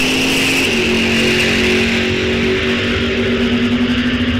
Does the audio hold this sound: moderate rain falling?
no